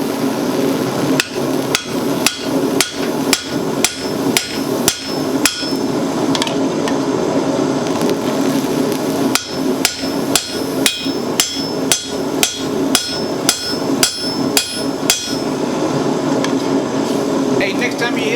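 A hammer striking hot metal on an anvil while forging a hatchet, delivering rapid, evenly spaced ringing blows in two long runs with a short pause between, close and loud over a steady background hum.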